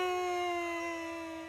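In the video game Friendsim, a small dog gives one long, high, sustained howl-like cry that tapers off slowly, clear and loud with nothing else underneath.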